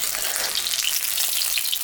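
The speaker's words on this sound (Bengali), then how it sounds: "তেলটা গরম হয়ে গেছে, পনিরটা এখন আমি ভাজি।" Paneer cubes frying in hot oil give a steady, close crackling sizzle with fine popping throughout, no voices.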